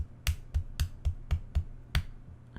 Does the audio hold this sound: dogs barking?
no